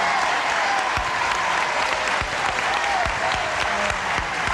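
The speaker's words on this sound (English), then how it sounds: "Would you all join me in a brisk round of applause" Steady studio audience applause on a 1984 game show set, dense and sustained from start to finish with no talk over it.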